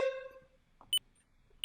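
A smoke-detector-style device with low batteries chirps twice, short sharp high beeps about 0.7 seconds apart, following a brief voiced sound.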